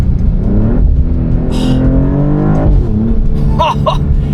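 A 2027 Maserati GranTurismo Trofeo V6 revs hard, its deep roar climbing in pitch, easing off, then surging again with sharp throttle blips near the end.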